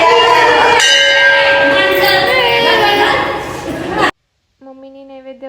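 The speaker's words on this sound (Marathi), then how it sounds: "इथे सुद्धा वेदांत दंडवत घेत होता आणि घंटी वाजवायला पाहत होता वरती हात करत." A bell rings at the Vitthal Rukmini temple, its bright metallic overtones ringing on through a noisy crowd as people talk close by, then it stops abruptly.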